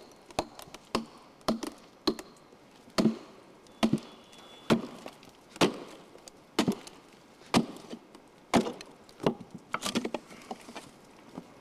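Spruce being split for guitar tonewood, with the sapwood marked off to be split away, gives repeated sharp woody chops and cracks at an irregular, steady pace. The blows are close and clear, and no one speaks.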